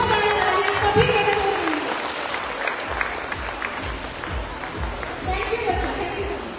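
A crowd at an annual cultural programme applauds a 4.5-year-old child performer, with steady clapping and a voice speaking over it, fading midway and then swelling again toward the end.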